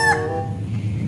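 A toy rooster figure lets out a short crowing call, loud and close, fading within about a second with a low hum beneath.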